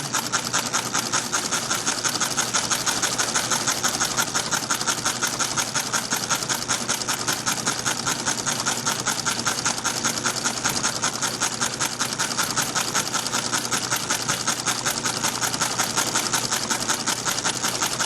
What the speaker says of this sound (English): if you're doing fill stitches, you just move the machine back and forth, up and down